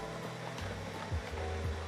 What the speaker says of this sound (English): Listen to that boiling water.